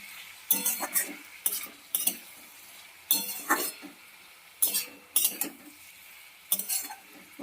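Puti fish curry with turmeric being stirred and mixed in a pan: repeated scraping, clinking strokes of a spoon against metal, in bursts roughly every second over a faint sizzle, close and fairly loud, with no voices.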